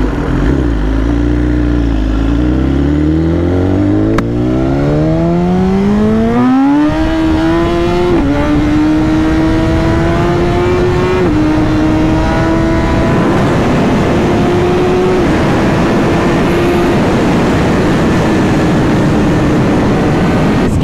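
A BMW S1000RR motorcycle screams at high speed in fifth gear, its loud engine note climbing through several rising sweeps and then holding a sustained high-pitched wail, with no talk.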